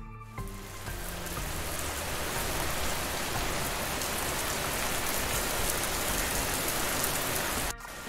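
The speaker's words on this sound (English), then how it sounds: "it's rainy weather. The clouds are filled with water and it's coming down as rain." Steady heavy rain pours down, a dense continuous hiss of drops hitting surfaces, loud and close, cutting off abruptly near the end.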